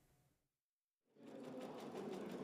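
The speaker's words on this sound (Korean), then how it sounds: "전도성 있는 실을 재봉틀에 넣어" A sewing machine stitches conductive thread to make an antenna, a fast, steady mechanical whir that starts after a short silence and runs on evenly and close.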